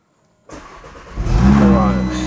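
An Audi RS3 three-door engine cranks after a moment of silence, catches and flares into a loud, close rev before dropping to a throaty, rumbling idle.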